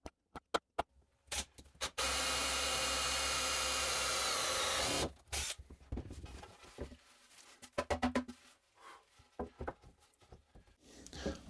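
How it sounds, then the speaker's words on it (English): A power drill whirs steadily for a few seconds, drilling ball-sized holes in wood for a game, followed by scraping and rubbing against wood with scattered knocks, no talking. "then I will drill the hole, of course big enough that this ball can go"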